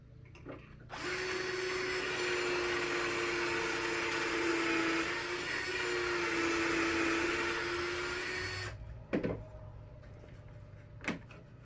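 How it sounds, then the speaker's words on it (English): An auger drill bores into the end of a 1x4 wooden board, a steady, close, loud whine running for about eight seconds, then stopping, followed by a couple of sharp knocks. "Now I'm going to use the auger on the outside setting."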